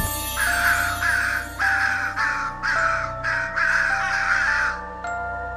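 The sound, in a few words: crows cawing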